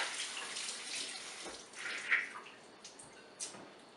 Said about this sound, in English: You'll notice the water when you drain them is brown